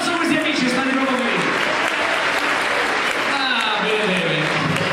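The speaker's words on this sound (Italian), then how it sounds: "Un applauso a questi amici, state proprio bene." Dense, steady applause from a live audience at a host's show at Nave de Vero in Marghera, Venice, filling all five seconds at an even level, with voices mixed into the crowd noise.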